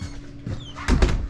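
The bathroom door in a 2017 Mercedes-Benz Sunseeker 2400R motorhome by Forest River is opened, a short latch click and then a couple of sharp knocking thuds close by.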